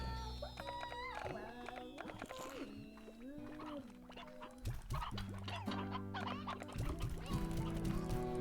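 Roosters and chickens in the Slime Rancher video game crow and cluck in a busy, overlapping chorus of honking, quacking-like calls. The calls are fairly loud and continuous, with game sounds mixed in.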